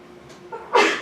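A close sneeze follows a short intake of breath, ending in a loud breathy burst with a fading tail against a quiet room.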